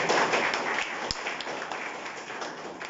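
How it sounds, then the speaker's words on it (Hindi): Audience clapping loudly in an Indian seminar hall, a dense wash of many hands applauding steadily for about three seconds, with one sharp thump near the middle. "सबसे पहले सर जी के लिए जोरदार ताली हो जाए"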